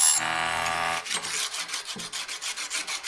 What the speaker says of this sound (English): here I'm using the Old Harbor Freight sharpener just to grind the tops off